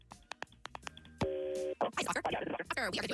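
A telephone is dialed for a radio station call: a quick series of separate tonal beeps, then a steady two-tone dial or busy signal, followed by bursts of a voice and line noise as the call connects.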